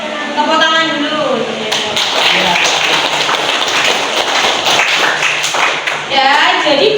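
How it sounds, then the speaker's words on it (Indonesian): A high school history class claps together, a burst of many hands rising after a teacher's voice and carrying on steadily, with talk over the start and end. "tepuk tangan dulu."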